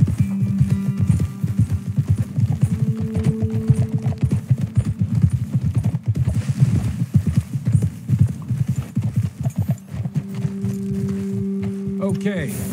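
Horses galloping in the video game Red Dead Redemption 2, a fast, steady drumming of hooves close by for most of the clip, with brief tonal hums and a slowing at the end.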